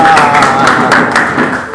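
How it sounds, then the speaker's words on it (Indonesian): Classroom applause from a group of students, a dense patter of clapping under a lively, continuous crowd wash with a voice carrying over it. "Oke, tepuk tangan buat semuanya."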